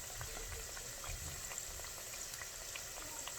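Empanadas frying in oil in a deep fryer, giving a steady, even crackle and bubble with small pops scattered throughout, fairly quiet and without any talk.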